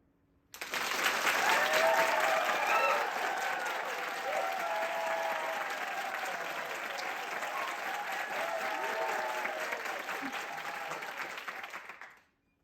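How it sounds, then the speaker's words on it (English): Long, sustained applause from a live audience at a demo event, starting abruptly on cue, holding at an even, dense level for about eleven seconds, then cutting off sharply. "long applause this time"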